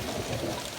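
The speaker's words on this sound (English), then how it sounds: "Thunder." Heavy rain pours down during a thunderstorm in Fresno, California, with a dense, steady broadband wash and a low rumble of thunder filling a brief moment.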